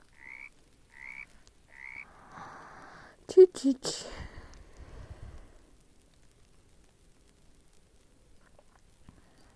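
Frogs croak in a forest in a Roblox game, three evenly spaced short croaks followed by louder clattering in-game sounds, then quiet with faint background.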